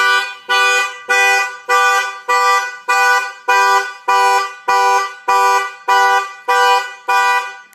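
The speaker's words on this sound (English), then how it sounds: "If anybody walks up and bangs on the window, the alarm will fire off." A Mercedes-Benz car alarm sounds nearby in a loud, rhythmic series of about a dozen identical harsh tonal blasts separated by short gaps, with nothing else audible.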